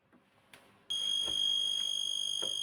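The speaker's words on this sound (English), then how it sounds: "If the plug is inserted the other way round, the buzzer goes off" The polarity buzzer on a 1954 Grundig Heinzelmann radio starts abruptly after a couple of faint clicks and holds a loud, steady, piercing electronic tone to the end.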